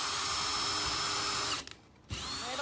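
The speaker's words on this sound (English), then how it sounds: "we're just gonna go ahead and pre-drill this one in" A power drill pre-drills holes into a rustic wooden shutter, a loud close whirring that runs, stops briefly for a moment of quiet, then starts up again.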